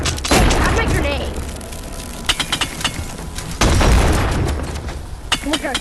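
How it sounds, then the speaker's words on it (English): Booming blasts and crackling bursts from a grenade in the Animal Company arena VR game, a loud hit near the start and another mid-clip, with players talking over the action. "Have my grenade."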